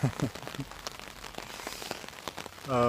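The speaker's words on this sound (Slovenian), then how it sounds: "koliko bojo tele kapljice, ki udarajo po dežniku, se slišale na tem videoposnetku" Raindrops patter on an umbrella in the early morning, a dense close crackle of small taps across the whole stretch, with a brief voice-like tone near the end.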